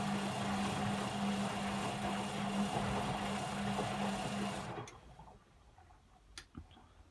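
A Beko WM5100W washing machine spins at high speed with a dense, loud whirring hum and steady drone for about five seconds, then winds down abruptly to quiet, leaving a few faint clicks and knocks.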